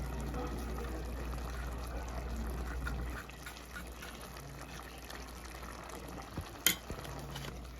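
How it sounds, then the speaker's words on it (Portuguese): Ingredients for a diet meal, including ricotta, are mixed in a container, making a soft, continuous scraping and stirring texture that stays quiet and close, with a small clink near the end. "Vou misturar isso aqui."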